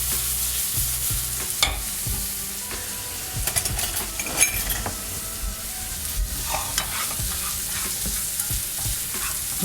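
Steady sizzling of onions frying in a hot pan, with occasional scrapes and clinks of a utensil stirring, fairly close and without talk.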